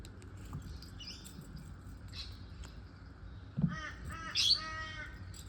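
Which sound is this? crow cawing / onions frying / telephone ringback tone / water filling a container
crow cawing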